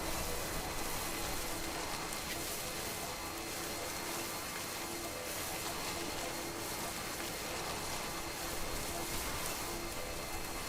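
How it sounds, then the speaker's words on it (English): Steady rain hisses continuously in Death Stranding, a dense, even wash of falling water with no breaks. "Okay, it's raining."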